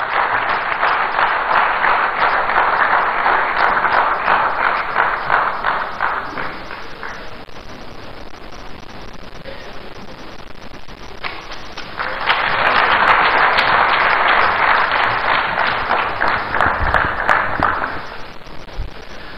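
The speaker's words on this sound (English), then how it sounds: "Ladies and gentlemen, round of applause for Honorable Sam Okudeto Ablakwa." A crowd at a political rally in Accra, Ghana, breaks into loud applause, which dips to a quieter patter midway before a second strong wave of clapping swells and then fades.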